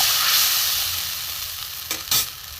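Wet spice paste of ginger, green chili, peanut, poppy seed and mustard seed sizzling and being stirred in a pan, a close, steady hiss with a few louder scraping bursts near the end.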